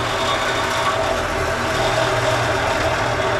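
Wood lathe spinning at about 1900 rpm while turning a lighthouse Christmas tree ornament, a steady, even mechanical hum and whir with no breaks.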